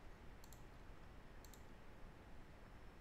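Two quick double clicks of a computer mouse, sharp and faint, a second apart against a quiet hiss, with no talk.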